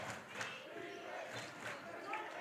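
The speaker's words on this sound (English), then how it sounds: "I don't know who's louder, the fans or the Nighthawk bench." Basketball fans and the bench cheer during a college game, heard as faint, distant crowd roar with scattered shouts rising and falling.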